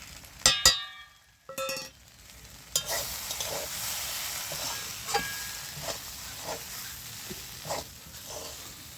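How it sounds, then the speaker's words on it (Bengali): Okra curry fries in a pan with a soft, continuous sizzle, broken by a few loud utensil clinks and scrapes at the start and then lighter periodic stirring. "ভালো করে নেড়ে চেড়ে এটা ভেজে নিয়েছি"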